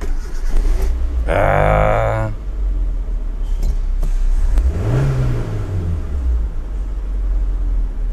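An old, roughly thirty-year-old Hyundai Elantra at a junkyard cranks and starts, then its engine revs up and settles, close and fairly loud, with a person speaking briefly nearby.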